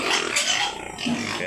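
Pigs in a backyard pen at morning feeding time, giving a brief burst of close, rough grunting and squealing that runs on without pause.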